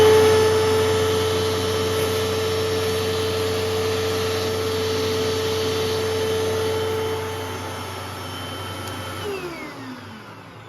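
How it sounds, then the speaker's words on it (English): A Hoover WindTunnel Pet vacuum runs through its hose to suck up small leaf debris, a loud steady drone with a high whine that dips and winds down near the end. "I will demonstrate that the hose actually works now. I piled some small leaf debris right here,"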